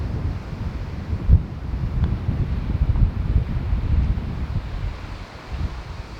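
Strong wind buffets the microphone on an open golf course, a constant low rumbling roar with gusty swells and no other clear sounds.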